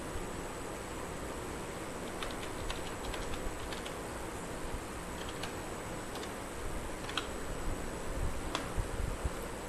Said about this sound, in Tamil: ஆக்டிவ் செல் டாட் கால்குலேட் டைப் பண்ணி காமிக்கிறேன் பாருங்கள்.